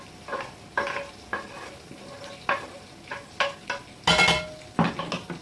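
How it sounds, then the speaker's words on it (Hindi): A spoon scrapes and knocks around a pan of masala okra frying with spices, giving distinct stirring strokes every half second or so over a soft sizzle, close and fairly loud. "अच्छे से हिला लीजिए।"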